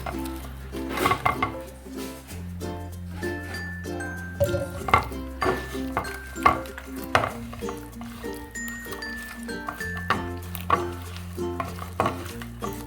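Cauliflower is tossed with masala in a bowl for street-style cauliflower chilli, producing uneven clinks and soft scrapes of a utensil against the bowl in irregular bursts, close up, over a low steady hum.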